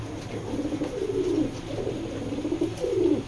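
A pair of green-necked pigeons coo softly and repeatedly close by, a low throaty rolling rhythm in several phrases with little else around.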